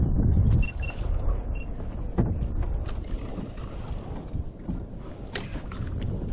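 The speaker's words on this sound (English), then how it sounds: "it does feel like the wind's pushing in from that way" Wind gusts over the open ocean off Hawaii during kayak fishing, a loud steady rush with buffeting on the microphone and water sloshing against the kayak hull, with no voices.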